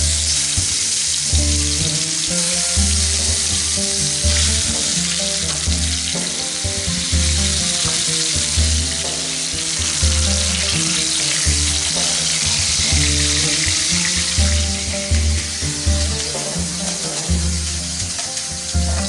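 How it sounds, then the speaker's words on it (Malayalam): Cut tomatoes shallow-fry in oil with a loud, continuous sizzle and crackle that stays dense and steady throughout, with occasional stirring beneath it. "അതിലേക്ക് തക്കാളി കട്ട് ചെയ്തതെന്ന് ഷാലോ ഫ്രൈ ചെയ്തെടുക്കാം"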